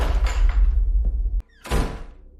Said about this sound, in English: He slammed the door on his way out.